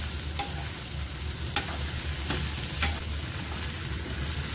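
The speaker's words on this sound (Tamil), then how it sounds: "கத்திரிக்காய் பூண்டு வெங்காயம் இதெல்லாம் நல்லா தேர்ந்து நல்லா வதங்கி வரணும்" Eggplant, garlic and onion sauté in a pan for garlic brinjal kulambu, a steady close sizzle with a few soft stirring scrapes and no talking.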